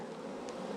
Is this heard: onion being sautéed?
no